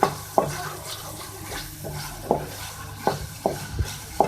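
Chicken pieces stirred in a frying pan after turmeric is added, for chicken macaroni: irregular spoon scrapes and clinks against the pan over a low background, with no sizzle standing out.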